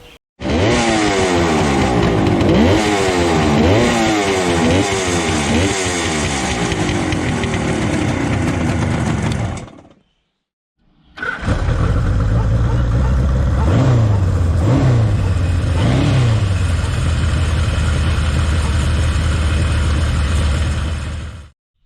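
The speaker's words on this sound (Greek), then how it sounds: "Μηχανάκι τετράχρονο, τετρακύλινδρο, αερόψυχτο, μέσα της δεκαετίας του 70" A mid-1970s Kawasaki four-stroke, four-cylinder, air-cooled motorcycle engine revs up and down repeatedly, loud and close, pausing briefly before revving again in rising bursts.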